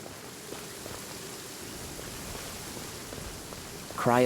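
Steady rain falls on surfaces in Genshin Impact, an even hiss of drops throughout, joined by a brief louder chime-like burst at the very end.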